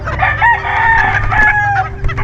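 Backyard rooster crows loudly and close while other chickens cluck around it, a short burst of farmyard fowl sounds with no talking.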